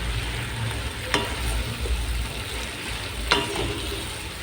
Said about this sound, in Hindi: भिंडी को थोड़ा सा मसालों के साथ इसको हमने मिक्स करना है